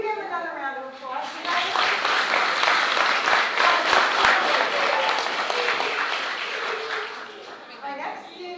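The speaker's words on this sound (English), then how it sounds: "You can give another round of applause." People at a school board meeting applaud again, talk giving way to a full, steady burst of clapping from the room that tapers off as voices return.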